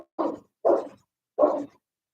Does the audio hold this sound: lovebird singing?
no